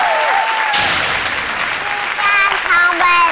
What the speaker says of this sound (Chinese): 我们给他掌声加尖叫